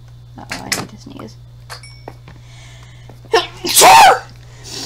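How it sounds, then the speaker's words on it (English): A single loud, close sneeze from a person playing Minecraft, following brief talk and a quiet stretch. "Uh-oh, I need to sneeze."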